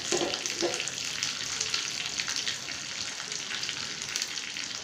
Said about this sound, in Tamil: கடுகு நல்லா பொரிஞ்சு வர டைமில் ஃப்ரெஷ் கருவேப்பிலை ஒரு கொத்து ஆட் பண்ணிக்கிறேங்க